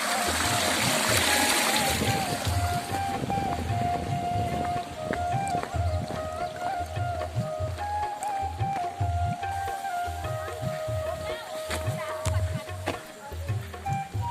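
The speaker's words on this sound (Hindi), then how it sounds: "और यह अजुकुलु में पानी की नहर, स्वच्छ पानी।" Clean water runs along a canal in a hill village near Betalghat, a continuous rushing and splashing flow with bursts of spatter, heard close by throughout.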